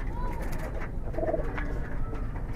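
A Giribaz pigeon coos while being held in hand in a village setting, a few close, throaty warbling coos over a low background rumble and faint movement.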